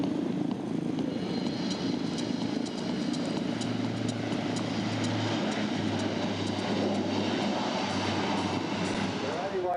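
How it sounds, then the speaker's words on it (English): A loud, steady roar of propeller aircraft engines at an airshow, with a deep droning tone surging in partway through as the props go into reverse thrust on landing. "listen to those props go into reverse thrust as he touches down"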